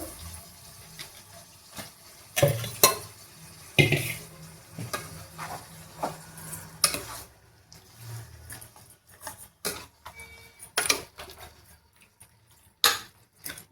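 Mutton curry in a pot being stirred after salt and turmeric are added, giving scattered scraping and clinking spoon strokes against the pot with faint sizzling between them, close by and without talk.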